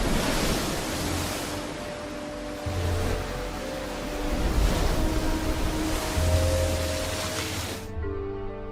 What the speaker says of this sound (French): Les vents d'hiver soulèvent de grandes vagues qui déferlent sur la côte et rongent la roche.